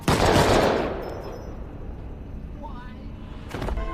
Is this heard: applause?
no